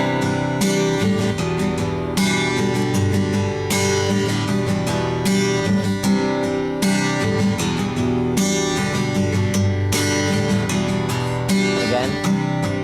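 Acoustic guitar strumming the chorus chords of a song, a steady, full-bodied rhythm of chord changes played continuously and up close with no voice over it.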